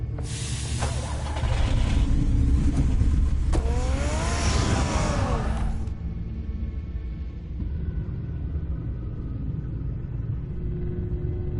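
Batman's car in the Batman video game gives off a deep, steady engine rumble with a brief revving swell early on, settling into a continuous low drone.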